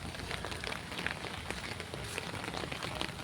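Steady rain pours down on surfaces in Kerala, a dense even hiss with scattered drops, heard close and alone with no talk.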